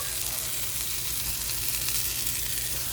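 Food sizzles and fries steadily in a seasoned pan, a dense continuous hiss close by with faint pops throughout and no talking.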